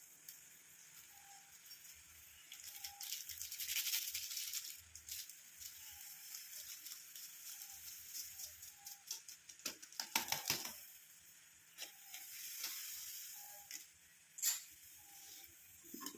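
Tea powder and coffee powder being stirred together into a thickening homemade hair dye paste: soft, faint scraping and gritty swishing in an uneven rhythm, quiet and close with occasional louder scrapes.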